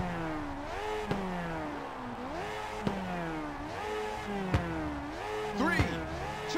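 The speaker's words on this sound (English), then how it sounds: "Now start your engines and get ready" Car engines in the racing game Ridge Racer 2 rev repeatedly at the start of a race, rising and falling in pitch with sharp clicks between revs, under background game music and an announcer's voice.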